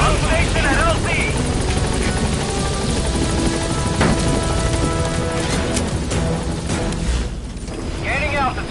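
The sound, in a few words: helicopter arriving at landing zone, video game Metal Gear Solid V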